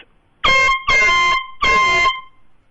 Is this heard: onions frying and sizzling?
no